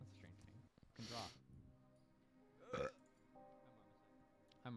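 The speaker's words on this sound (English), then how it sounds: "You can listen to this burp several times." Two distinct burps stand out, one loud and one a little later. Quieter tonal sounds and other vocal noises fill the gaps between them.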